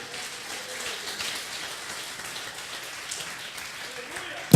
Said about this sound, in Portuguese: Bate palmas e dá glória a Deus.